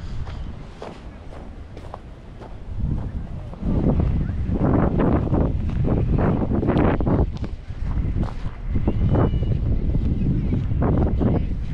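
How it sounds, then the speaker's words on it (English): Steady wind rushes and buffets against the microphone while cycling near Sausalito, loud and continuous throughout with gusty surges and occasional rustling thumps. "But the wind slows things down a little bit."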